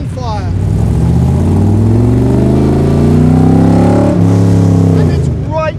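A Factory Five Mk4 Roadster roars loudly under acceleration, its engine note sweeping upward, then dropping sharply on a downshift with a brief crackle near the end.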